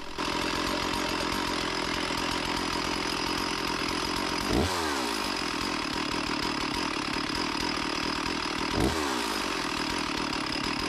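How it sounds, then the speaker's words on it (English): A chainsaw idles loudly and steadily up close while its idle speed is adjusted, the engine note shifting twice as the setting is turned down. "I'm just going to gradually turn the idle speed down until the chain stops spinning"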